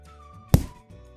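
A single heavy thud-and-stab impact from a free Apple iMovie effects library, one sharp close hit with a short decaying tail over a faint tonal bed.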